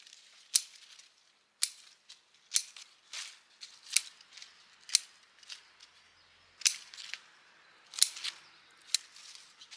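Garden shears cutting back leafy colorful foliage plants before the rainy season: a series of sharp, close snips and clicks at an irregular pace, some in quick pairs, with no talking.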